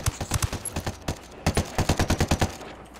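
Bursts of rapid gunfire in a PvP shooter game, a quick volley, a brief pause, then a longer run of evenly spaced shots, close and sharp.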